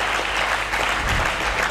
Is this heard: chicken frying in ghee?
no